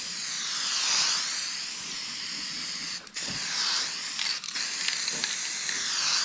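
Paint lightly sprayed as a dusting coat from an aerial can for a patina finish, a steady close hiss in sustained bursts with two brief breaks between passes.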